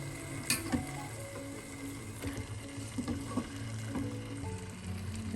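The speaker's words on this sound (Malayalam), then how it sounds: "ഉള്ളിയിലേക്ക് നമുക്ക് ചിക്കൻ കഷ്ണങ്ങൾ ചേർക്കാം." Chicken pieces hit hot onions in a pan for chicken biryani with jeerakashala rice, sizzling and frying steadily while a spoon stirs and clanks against the pan several times.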